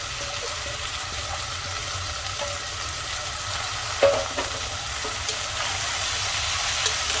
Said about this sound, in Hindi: अब इसमें डाल देंगे मेथी जो हमने कट करके और धोकर रखी है।